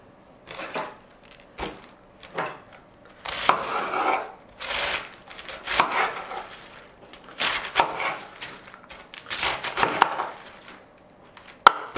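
Vegetables such as carrots are chopped with a knife on a cutting board for mixed pickles, a loose series of sharp, close knocks in irregular bursts with quiet gaps between.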